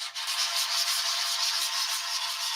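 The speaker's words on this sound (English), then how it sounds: "Again, I'm just controlling the sanding block." Continuous raspy scraping of a sanding block rubbed back and forth over a surface, close and steady with a faint rhythmic pulse.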